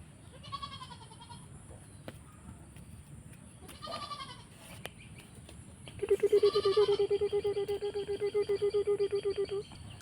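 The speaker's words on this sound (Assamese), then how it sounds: "কিমান ধুনীয়া ছাগলী পোৱালিটো" A young goat bleats a few times, short cries first, then a long wavering bleat pulsing steadily for several seconds, fairly close and clear.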